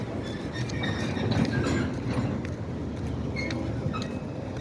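A Norfolk Southern GP switcher locomotive moving while switching tank cars, heard as a steady rumble with faint wheel and rail clatter, moderately close and continuous, with no talk.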